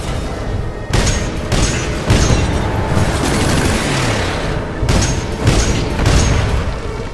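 A missile salvo fired in Titanfall 2, a run of loud booming launches and rapid explosive bursts in clusters, dense and close, with the mech's combat noise continuing between them.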